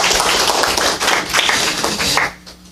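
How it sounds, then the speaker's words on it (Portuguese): A small audience at an academic conference opening gives a short round of hand clapping for a speaker being introduced; close, crisp claps that stop abruptly near the end. "Salva de palmas para a doutora Patrícia"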